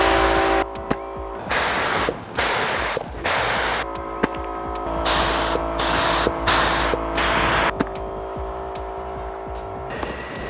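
Short, loud hissing bursts of a spray can repeat across the clip as a fifth coat of paint goes onto a bicycle, each spray lasting about a second with brief pauses between.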